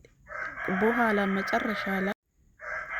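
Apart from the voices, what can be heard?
roosters crowing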